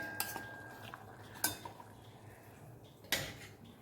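Beetroot leaf vadis are lifted into a serving dish, with three sharp clinks of a metal utensil against the pan and dish and faint scraping between them, quiet and close.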